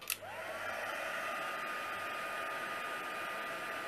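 A heat tool blows steadily and loudly over tissue paper watercolour work, a continuous airy whir after a brief click at the start, with no voices.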